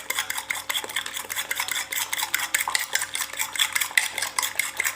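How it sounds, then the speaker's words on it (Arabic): A utensil scrapes and clinks rhythmically against a bowl while stirring a mixture of eggs and cauliflower florets, a quick, steady, close series of strokes with no talking. "نمزج هذه المكونات مليح."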